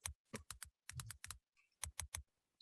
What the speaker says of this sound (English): And also when you're typing, you can hear some typing sounds.